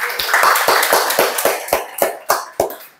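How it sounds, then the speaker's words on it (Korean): Clapping at a church fellowship sermon, a run of about a dozen distinct, crisp hand claps in a steady rhythm that slows and spreads toward the end, close and clear with no talk over it. "박수 한번 쳐줍시다"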